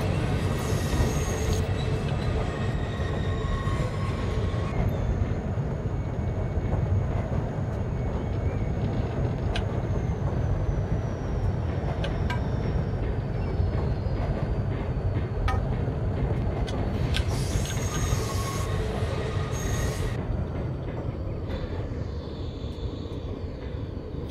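A GP30 diesel locomotive hauling coal with its loco brake applied in Train Simulator 2018 produces a continuous low engine rumble and rolling rail noise. Intermittent high squeals and hisses sound above the drone throughout, with no talk.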